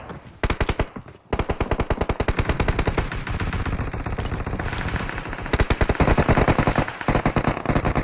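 Sustained automatic gunfire from enemies in a tactical shooter game, long loud bursts of rapid shots with a brief pause near the start and another gap before the final volley, no talking.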